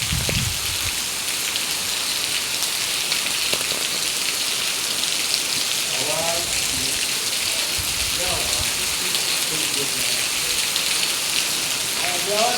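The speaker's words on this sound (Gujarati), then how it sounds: "ગામડે તો ફૂલ વરસાદ છે" Heavy rain pours steadily in a village, a dense continuous hiss of drops hitting surfaces, with faint voices and brief background sounds under it.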